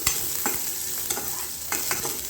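Coconut pieces roast in a hot pan for a radish kuzhambu, with a steady sizzle under a few scraping stirs of a spoon against the pan, close and without talk.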